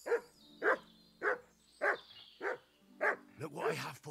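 A dog in the video game Kingdom Come: Deliverance II gives a string of short, close yelps and whines at an even pace, roughly seven in four seconds, over a faint, steady game background.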